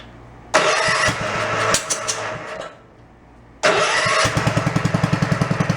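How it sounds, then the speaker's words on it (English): An old barn-find Gravely tractor engine is started with the key, giving a loud cranking burst, a pause, then a second crank that catches into a steady, rhythmic chugging run close by. "Let's go see if she fires up and how she sounds. Should be able to go right with the key now."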